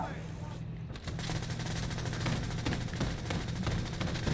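Rapid bursts of light machine gun fire in a video game, dense repeated shots rolling on for several seconds at steady loudness, with a brief lull near the start.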